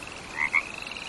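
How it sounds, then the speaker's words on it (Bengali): Frogs croak at night beside a dark road through open fields: two short, close croaks in quick succession over a faint, steady background. "স্টেশন থেকে বেরিয়ে ব্যাঙের শব্দ শুনতে পেলাম,"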